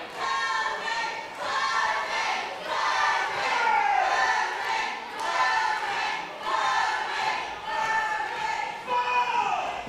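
A pro wrestling crowd at a WAW Academy championship show roars and shouts in rolling waves of cheering and battle cries, loud and continuous throughout.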